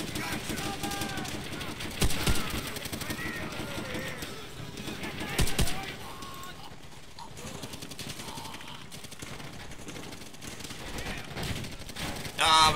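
Machine gun fire in Call of Duty: World at War, continuous rapid bursts of automatic gunfire with a few louder nearby shots standing out, under occasional talking.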